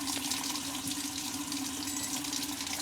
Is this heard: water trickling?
yes